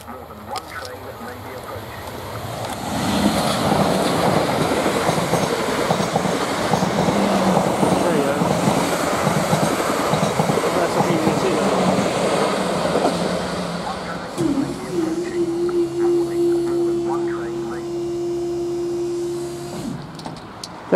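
A train on the Haslemere to London Waterloo service rushes past a level crossing at Milford, Surrey, a loud sustained rumble and clatter close by, with a steady warning tone sounding near the end.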